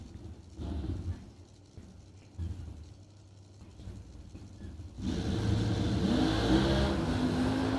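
A drag racing car launches hard off the starting line, tires blistering, its engine bursting from a low idle rumble into a loud, sustained roar partway through.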